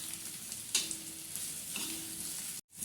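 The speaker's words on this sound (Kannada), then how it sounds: "ಹಂಚಲ್ಲಿ ಈ ಹಾಗಲಕಾಯಿನ ಫ್ರೈ ಮಾಡ್ತಾ ಇದ್ದಾರಲ್ಲ" Thin slices of bitter gourd fry on a griddle pan over a low flame, a steady soft sizzle with a couple of brief scraping stirs, close and fairly quiet.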